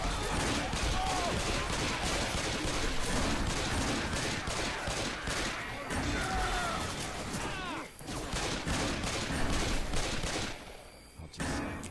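Gunfire from Left 4 Dead on Expert Realism: dense, continuous rattling shots fill the whole stretch, loud and close, with a brief lull near the end and people talking over it.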